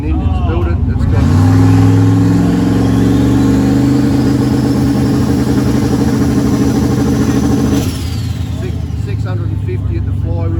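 Holden V8 with a 406 cubic inch dark block, 220 AFR heads, 1000 carb and roller cam, revving loudly and steadily close by, the pitch climbing and holding before easing back near the end.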